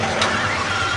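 An Italian supercar's engine, a big-brand exotic driven on the Gumball 3000 rally, roars loud and close in a steady rumble, with a brief rise in pitch near the start.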